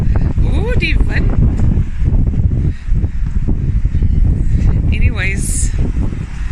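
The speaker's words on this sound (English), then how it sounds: "Oh, die wind." Strong outdoor wind gusts blow across the microphone in a steady low rumble for the whole stretch, with someone talking over it and a few high chirps.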